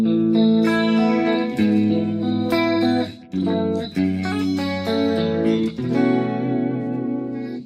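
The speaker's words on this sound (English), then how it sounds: "And just the reverb itself, it sounds like this." Electric guitar played through Bias FX 2 with a reverb effect, a few clean strummed chords ringing out with a roomy, lingering tail, heard alone and fairly loud.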